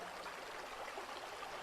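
River flowing on below a multi-level waterfall and small pool, disappearing into vegetation; a constant, even wash of moving water, fairly close and unbroken.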